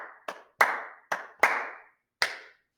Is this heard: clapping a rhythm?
yes